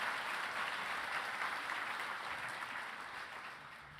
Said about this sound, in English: please give Yunji a round of applause